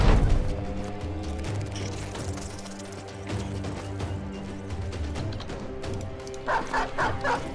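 A dog in a video game barks repeatedly over a layered game soundtrack and effects, with sharp yips and whimpers rising near the end.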